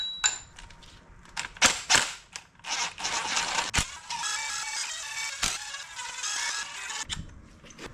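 Bolts being removed from the timing cover of a Subaru FA20 engine in a VA WRX, with repeated sharp ratcheting and clicking bursts, close and loud, and no talking.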